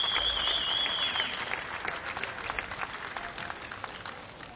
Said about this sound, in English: please give one final round of applause for your OKN Junior finalists.